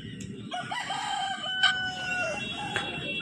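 Roosters crow and chickens cluck at a village poultry market, Feko Haat in Jhargram district, West Bengal, with drawn-out crows layered over a busy murmur of the crowd.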